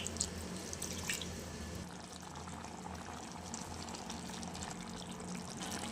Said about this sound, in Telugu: కొంచెం వాటర్ వేసుకోవాలి ఫ్రెండ్స్ గ్రేవీకి సరిపడా.